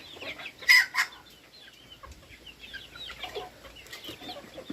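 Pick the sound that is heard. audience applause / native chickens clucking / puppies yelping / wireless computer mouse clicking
native chickens clucking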